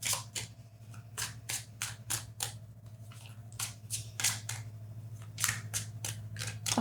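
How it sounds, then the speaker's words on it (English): Tarot cards shuffled in a steady run of crisp riffles and slaps, close up, over a low background hum with no talking. "So let me just get these cards shuffled"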